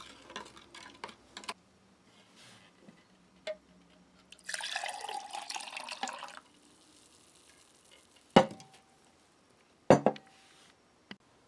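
Muesli from a 2015 Austrian Type 3 day ration pack stirred with water in a container: scattered spoon clicks and taps, a longer scraping, swishing stretch in the middle, then a few sharp knocks, close and quiet.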